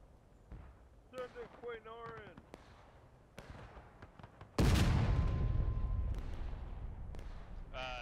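Cannon and musket fire in the American Civil War game War of Rights: a few scattered pops, then one heavy booming cannon blast that rolls and decays for several seconds, with players talking over the battle.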